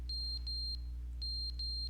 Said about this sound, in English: What's that beeping noise?